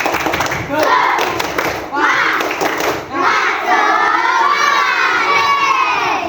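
A classroom of pupils in a teacher-training performance lesson does the rhythmic tepuk semangat clapping chant, voices shouting in unison over sharp group claps, loud and close, in several bursts that swell into sustained chanting.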